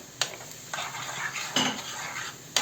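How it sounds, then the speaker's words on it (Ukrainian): A spoon scrapes and clinks against a metal pot in several short strokes while stirring flour and sour cream for mushroom soup, close and fairly loud, with no voices. "І розмішую"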